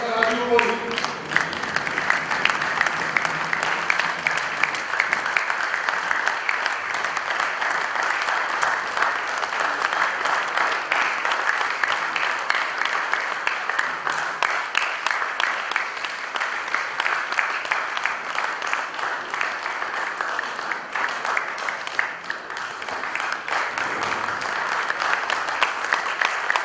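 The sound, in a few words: audience giving a standing ovation, applause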